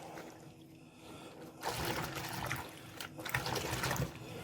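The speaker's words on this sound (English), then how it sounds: "Now get your membrane, swish it around there." A keyboard membrane is swished around in a basin of soapy water, giving faint sloshing and trickling that starts after a quiet moment and continues in uneven surges, with no talk.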